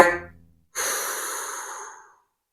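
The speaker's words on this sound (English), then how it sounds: "Take a deep breath in. And a deep breath out." A person takes a slow deep breath in and then lets out a long, steady breath, close and clear with a brief pause between them and no talk.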